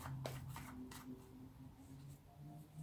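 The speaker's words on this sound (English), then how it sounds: "I don't know why I'm still shuffling." A deck of tarot cards being shuffled by hand, with soft repeated riffling and flicking bursts spread through the clip over a low steady background hum.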